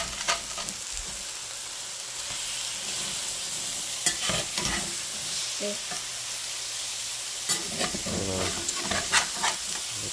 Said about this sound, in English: And we're going to put hash browns in that one.